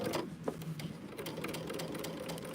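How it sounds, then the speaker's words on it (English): A sewing machine stitches through a quilt, running in a steady, continuous mechanical whir with rapid needle clatter throughout, fairly quiet and close, with no speech. "I'm going to lock in my stitches again."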